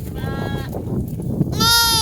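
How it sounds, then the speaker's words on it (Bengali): Sheep and lambs bleating in a village, a few wavering calls at close range, the louder bleat near the end, with a low rumble of outdoor background beneath. "ভেড়ি বাচ্চা কত সুন্দর শুয়ে আছে এইখানে"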